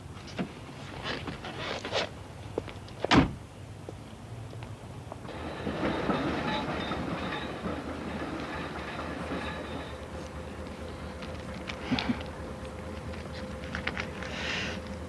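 A tram runs on its rails through a town, giving a steady rolling rumble with a whine and clatter that build midway, plus a few sharp knocks early on.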